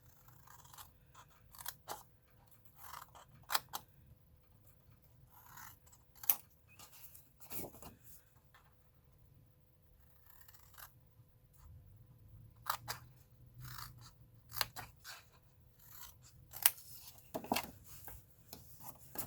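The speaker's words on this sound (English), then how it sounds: "so I'm using different scissors today" Scissors make scattered sharp snips and crisp cuts through paper at irregular intervals, close and fairly quiet, with short pauses between bursts and no talking.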